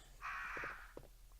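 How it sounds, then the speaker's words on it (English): Crows caw in the Resident Evil video game: one long harsh caw with a few short croaks after it, fairly close and moderately loud over a low game hum. "the crows will attack"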